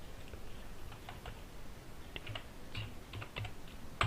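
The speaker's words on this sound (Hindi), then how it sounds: "थोड़ा सा लाइट चली गई है, अंधेरा है, इसलिए थोड़ा कीबोर्ड इधर उधर दब जा रहा है।" Soft, irregular keystrokes on a computer keyboard in a dim room, scattered clicks over a low background hum and no speech, with one louder tap at the very end.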